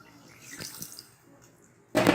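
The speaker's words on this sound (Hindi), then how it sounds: "देगची में हमने थोड़ा सा दूध पहले ऐड करना है।" Milk is poured into a degchi cooking pot for lauki halwa, a short liquid splash that bursts in near and loud at the end after quiet handling sounds.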